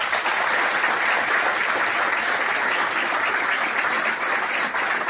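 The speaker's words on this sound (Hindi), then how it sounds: "एक बार जोरदार तालियां।" Loud, sustained applause from a crowd at a community leaders' gathering, a continuous wash of many hands clapping that holds steady throughout without pause.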